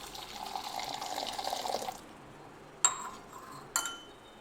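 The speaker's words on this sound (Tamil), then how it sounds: "நான் பால் இதில் சேர்க்குறேன்." Milk is poured into tea in a steady, soft liquid stream for about two seconds, followed by two sharp clinks of a vessel, close and quiet.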